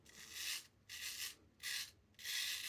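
A straight razor with a freshly honed edge cuts through stubble in four quick strokes, each one a crisp, rasping scrape heard up close and quietly, with short pauses between the strokes.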